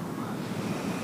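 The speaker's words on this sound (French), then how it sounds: "Depuis tout à l'heure, le vent a doublé depuis tout à l'heure." Strong wind roaring steadily at the foot of a volcano, a dense continuous rush with low buffeting against the microphone and no voices.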